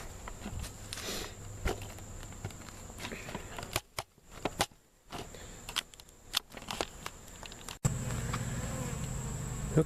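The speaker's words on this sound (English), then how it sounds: "All those ones hanging around the outside looking for their home have moved in" Honeybees buzz around a hive where a small swarm and homeless field bees are settling in. The buzzing is faint and continuous, broken by handling clicks and knocks, with a brief quiet gap partway through.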